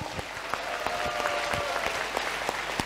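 A hall audience at a seminar claps together in sustained, dense applause with sharper individual claps standing out near the front, steady for the whole stretch.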